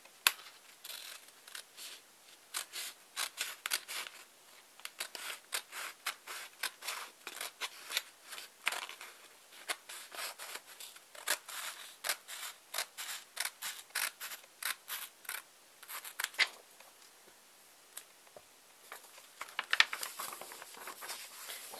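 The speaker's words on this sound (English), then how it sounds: "And then this extra part, just chop it off with scissors." Scissors snip repeatedly through folded origami paper, a rapid run of crisp, close cuts in uneven bursts with short pauses, quiet and with no talking.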